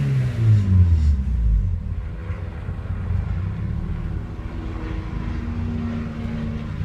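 A Mazda Miata engine gives a brief deep rev that rises and falls, then settles into a low, steady rumbling idle close by.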